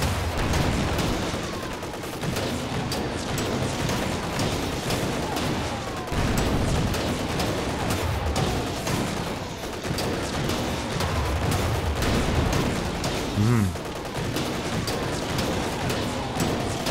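A Bofors gun in a World War II strategy video game firing at a Panzer IV tank. Rapid repeated booming shots continue densely throughout, mixed with impacts and other battle noise, loud and near.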